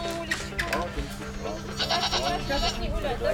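Goats on a village farm near Lviv bleat several times, close by and fairly loud. People talk over and between the bleats.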